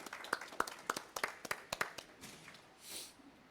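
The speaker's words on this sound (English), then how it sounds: "Let's get a choir one more round of applause." A handful of sparse, quiet claps acknowledging a choir, evenly spaced hand strikes close by, trailing off after a few seconds.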